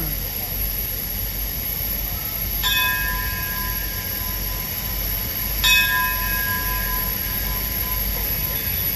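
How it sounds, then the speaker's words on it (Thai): Two clear metallic station bell strikes ring out a few seconds apart, signalling a steam train's departure, over a steady loud hiss and rumble of a rail platform. "เตรียมให้สัญญาณปล่อยครับ เคาะระฆัง"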